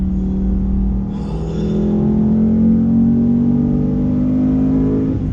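A 2018 Ford Mustang GT V8 with a 6-speed manual and Performance Package revs up, its deep steady engine drone rising slightly in pitch and holding loud and close, with no talk over it.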